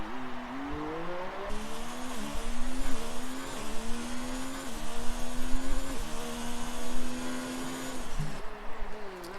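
Race car in a racing video game at the Chinese GP, on an out lap down the back straight: a continuous whining engine tone rising and falling through gear shifts, fairly loud and alone.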